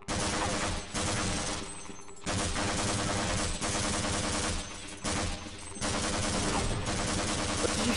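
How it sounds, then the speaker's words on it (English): Gunshots in the video game Half-Life, sustained stretches of rapid automatic fire broken by brief pauses, loud and close, heard without talk. "Why'd you just shoot the wall?"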